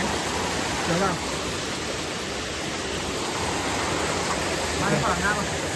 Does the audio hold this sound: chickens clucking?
no